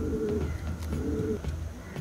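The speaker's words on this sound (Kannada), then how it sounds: "New Kim is the most expensive Pigeon in the world." Racing pigeons at an auction coo softly and repeatedly, with low, throaty calls over faint background noise.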